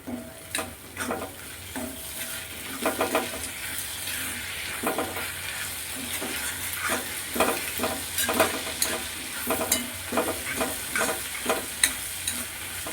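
Onions and tomatoes sauté in a pan for a prawn theeyal, with a steady frying sizzle under repeated scraping stirs of a spoon, close and moderately loud, without speech.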